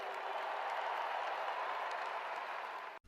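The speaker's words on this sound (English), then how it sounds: "Give them a round of applause, please." An audience applauds steadily in an even wash of clapping, heard at a distance and without any voices over it, until it cuts off abruptly.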